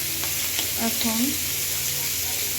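Garlic and onion fry and sizzle in a pan as they turn light brown, a steady close hiss throughout, with a single short spoken word over it.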